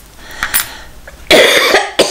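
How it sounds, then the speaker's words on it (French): A close, loud cough from a woman making a snowman card, with a short rasp followed by a harsher burst and a final quick cough. "je tousse"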